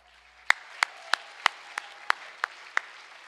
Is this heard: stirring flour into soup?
no